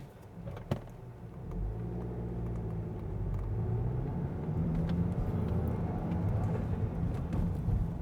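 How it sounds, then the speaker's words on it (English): A Volkswagen Mk8 GTI accelerating from inside the cabin, its engine and turbo rising in a steady low rumble that builds in pitch and strength, with a few faint clicks over the drone. "You can definitely hear the turbo, though."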